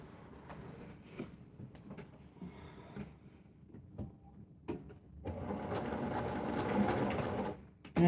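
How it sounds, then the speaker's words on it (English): A sewing machine stitches fabric for a needle book, with quiet handling clicks first and then a steady run of fast stitching for a couple of seconds. "I'm just going to put a little stitch, sew a little stitch right there across that, so it'll be held in place"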